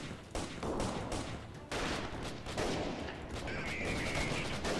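Gunfire in the video game Freeman: Guerrilla Warfare, a steady crackle of rifle and automatic shots from several weapons at once, loud and continuous across the whole stretch with no talk.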